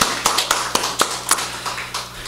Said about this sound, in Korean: 우리 하나님께 영광의 박수 우리 한번 올려드립시다